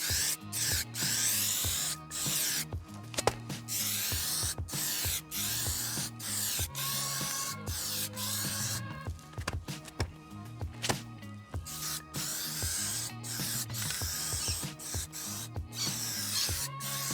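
Intermittent hiss of clear top coat sprayed over a rust-treated surface, nearby, in repeated short bursts with brief gaps, steady and moderately loud, with no talking.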